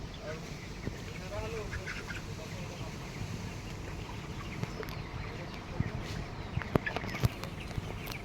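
Chickens in a poultry farm under a thatched roof, faint scattered clucks and rustling over a steady background hum, with occasional sharper sounds near the end.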